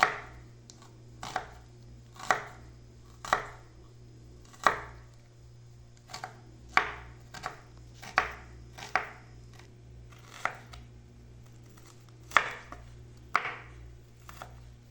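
A knife chops a small onion on a cutting board, sharp close knocks at an irregular pace of roughly one per second, with soft slicing in between and no talk.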